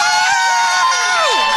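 A studio audience of a live comedy podcast taping claps and cheers in a dense, continuous roar, loud and close, with voices shouting through it.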